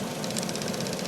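A faulty EVAP solenoid on an old car makes a rapid, steady ticking clatter over the idling engine, loud and close throughout the short stretch.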